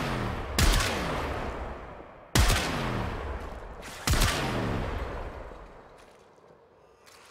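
Gunfire in the video game Warframe comes as three sharp, loud shots spaced a second or more apart, each trailing off into a ringing decay.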